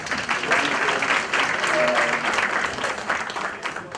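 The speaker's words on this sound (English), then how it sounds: "Let's give him a round of applause." An audience at a business school of governance applauds Professor Adebayo Olukoshi, a steady wash of clapping over a few seconds with faint voices mixed in.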